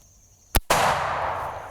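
A single loud, close gunshot firing a Lehigh Defense Extreme Penetrator 305-grain bullet at 2000 feet per second, a sharp crack followed at once by a second heavy blast and a long ringing decay.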